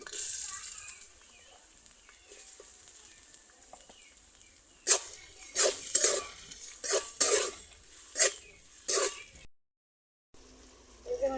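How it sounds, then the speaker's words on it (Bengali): Onion dropped into hot oil in a wok, with a quiet start followed by bursts of sharp sizzling and stirring strokes that rise and fall in quick pulses, close by. "তেলটা গরম হয়ে গেছে এখন আমি পেঁয়াজটি দিয়ে দিতেছি"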